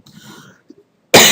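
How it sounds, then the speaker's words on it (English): A single sharp, loud cough bursts out at the end, following a stretch of quiet murmured speech from a man working through a tutorial. "Talking all day makes me cough."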